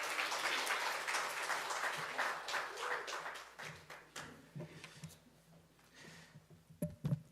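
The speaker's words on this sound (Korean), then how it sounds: "우리 목사님 나오셔서 능력 있는 또 하나님의 말씀 전하실 수 있도록 우리 큰 박수로 환영하도록 하겠습니다." A church congregation claps together to welcome the pastor to the pulpit. Dense applause fills the first few seconds, then thins into scattered claps that fade out.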